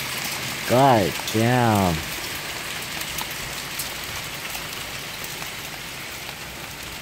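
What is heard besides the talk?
hailstorm hitting the house during a thunderstorm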